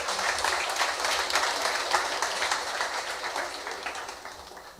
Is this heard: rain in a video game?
no